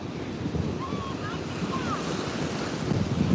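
Ocean waves wash onto a beach on a cool day, a continuous low rumbling surf mixed with gusting wind buffeting the microphone, steady and fairly loud throughout.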